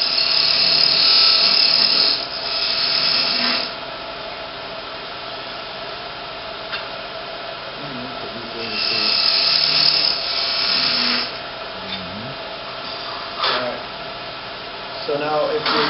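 A wood lathe whirs steadily as a tool makes an angle cut on a turned lidded box, with louder bursts of cutting noise in several stretches and someone talking throughout.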